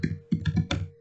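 A domain name is typed on a computer keyboard, giving four or five quick, close key clacks in an irregular rhythm over a faint steady hum.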